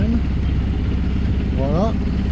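A sailboat's engine motors on a calm, windless sea with a loud, steady low drone, while a person talks over it.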